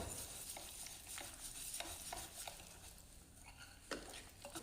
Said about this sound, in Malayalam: അത് നമുക്കൊന്ന് മിക്സ് ചെയ്ത് കഴിഞ്ഞിട്ട് ബാക്കി നോക്കാം.